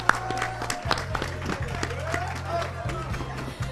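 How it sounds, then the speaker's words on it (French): An audience at a school challenge event claps in a mixed, uneven patter over a steady low hum, with scattered sharp hits and some background voices. "On applaudit."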